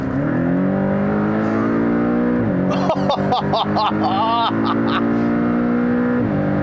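A Porsche 718 Cayman with a 2.5-liter turbocharged flat-four pulls hard from inside the cabin, its engine note rising steadily, then rapid shifts cut through in a choppy burst before a smooth, loud drone resumes.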